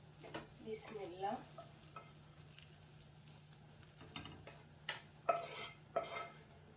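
Onions and chilies frying in a pan, with a low background sizzle broken by several scraping, clattering stirs of a utensil against the cookware, moderately close and without talk.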